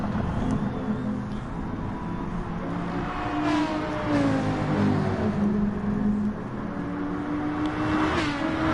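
Gr.3 race cars circling the Spa track in Gran Turismo Sport, several engines droning and shifting pitch through gear changes, fairly close and steady across the whole stretch.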